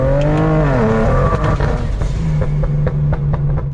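A BMW 335i on a full-throttle pull, its engine note loud and close, climbing in pitch, easing briefly, then holding a steady strained drone, with sharp clicks and pops scattered through it.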